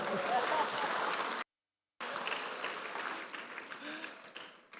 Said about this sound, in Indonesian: Berikan tepukanlah.